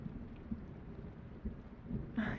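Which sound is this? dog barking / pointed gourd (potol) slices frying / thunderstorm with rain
thunderstorm with rain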